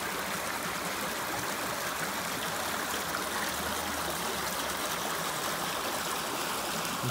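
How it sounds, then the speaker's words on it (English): Spring water flows out of Bethel Spring on Keel Mountain, Alabama, into an old stone structure and a creek, a soft, steady trickle and rush that runs evenly the whole time. "Here's another view of the water coming out of the spring here."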